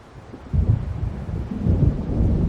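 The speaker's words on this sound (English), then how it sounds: "It seems there's a storm coming." Low, rolling thunder from an approaching storm in the video game Alan Wake, rumbling in two broad swells that build and linger, heavy and fairly near, with no voices over it.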